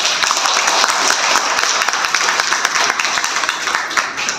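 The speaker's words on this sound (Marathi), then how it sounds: "प्रियाताई नप्ते यांच्या या व्याख्यानाबद्दल जोरदार टाळ्या।" Loud, dense applause from an audience after Priya Napte's lecture at a Buddhist dhamma initiation camp in Pimple Gurav, with many hands clapping steadily throughout.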